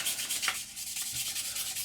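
Sanding sponge rubbed over a 1/48 Eduard MiG-29 plastic model kit, a steady soft hiss of repeated back-and-forth abrasive strokes, close and continuous.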